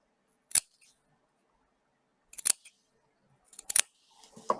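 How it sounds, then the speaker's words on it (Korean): Scissors make three separate crisp snips through organic cotton fabric for a face mask, close and sharp, with silent gaps between them and faint handling at the end. "여기 타원 부분을 가위집을 내어줍니다."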